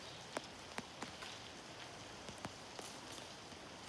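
Light rain pattering outdoors, a faint steady wash with scattered sharper drops tapping at irregular intervals, no voices.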